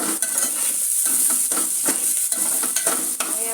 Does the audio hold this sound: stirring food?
yes